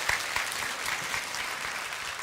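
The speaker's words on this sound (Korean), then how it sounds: "우리 박수로 하나님 앞에 영광 한번 더 돌릴까요?" A church congregation claps together during a Sunday worship service, steady and moderately distant, with no talk over it.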